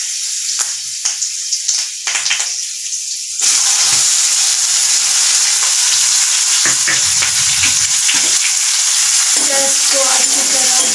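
Onions and curry leaves sizzle and crackle steadily in hot oil, with occasional stirring; the frying grows louder and denser after the first few seconds, with no talking.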